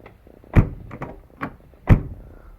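A few solid, heavy thuds, two louder ones about a second apart with a lighter knock between, like a car door being shut firmly nearby, on a Mercedes-Benz W124 E200.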